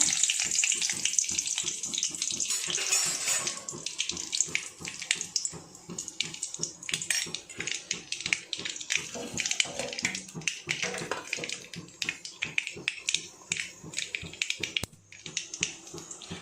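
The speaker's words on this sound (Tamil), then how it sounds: "கடுகு பொட்டிடுச்சு" Mustard seeds sputter and pop in hot oil in a pan, with dense, irregular crackling bursts that stay close and steady throughout, alongside curry leaves.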